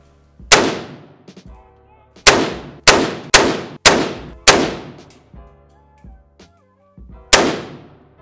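Heavy gun fired at an outdoor shooting range: seven loud, sharp reports with ringing decay, in uneven spacing with a quick cluster in the middle, close and dominant with faint background between shots.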